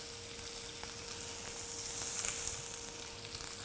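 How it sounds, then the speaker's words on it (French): Marinated lamb sticks sizzling on a hot grill, a steady crackling hiss with a faint tonal hum beneath, continuous and close for a few seconds. "je vais griller un agneau"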